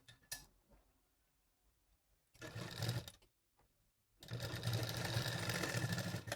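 Sewing machine stitching a small Laddu Gopal doll dress: a brief run near the start, a second burst of about a second, then a longer steady whirring run at the end, close and fairly loud.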